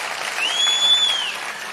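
A crowd at a political rally claps in a dense wash of applause that swells and holds, loud and close, with a thin high tone cutting across it briefly.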